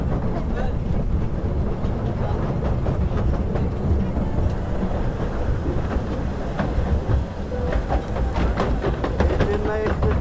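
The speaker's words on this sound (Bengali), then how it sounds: "আমাদের এই চেন্নাই এক্সপ্রেস মেলটা খুব দুরন্ত গতিতে ছুটে চলেছে" A toy train ride called the Chennai Express runs around a water park near Kolkata, making a continuous rumbling clatter with rhythmic clicks. Voices can be heard over the noise throughout.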